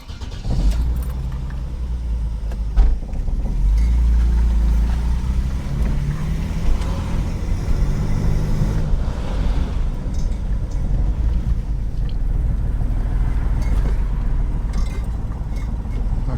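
Car engine idling after a Weber carburetor swap, a steady loud low rumble that holds throughout with a brief surge near the start and small knocks and clatters along the way.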